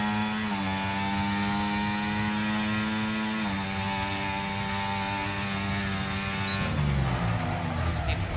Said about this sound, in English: Tyres sound like they are gripping